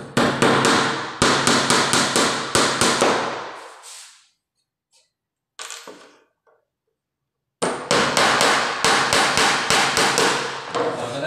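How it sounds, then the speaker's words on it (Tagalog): A hammer strikes nails into wood while a drawer is built, rapid repeated sharp close blows in two bursts separated by a quiet pause with a few scattered taps. "Patakuan natin muna."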